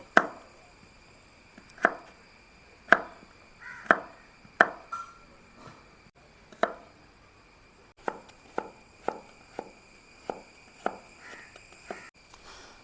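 Knife chopping cooked Kerala-style beef fry into small pieces on a board in a village kitchen, a steady series of sharp, close, distinct knocks spaced about a second apart, alone without talk.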